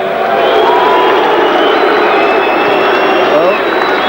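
A large boxing crowd at the Vodafone Arena shows its disapproval after an Anthony Mundine versus Lester Ellis fight. The loud, dense roar of voices holds steady and unbroken throughout.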